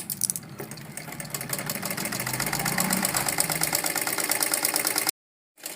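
Sewing machine double-stitching salwar seams, a fast, even mechanical rattle running steadily for several seconds before stopping abruptly, close and moderately loud, no talking.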